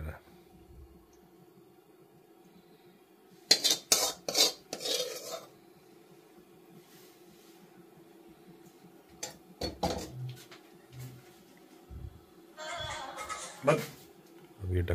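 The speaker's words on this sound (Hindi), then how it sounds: "अब इसका ढक्कन बंद करेंगे" Metal clatters and clinks in a kitchen, a lid set down on a pot of spiced vegetables with a couple of sharp knocks amid quieter stirring sounds.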